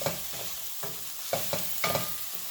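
Garden tomato curry sautéing in a pan over a low flame, a soft steady sizzle broken by a series of spoon-stirring scrapes and taps, close by and quiet, with no voices.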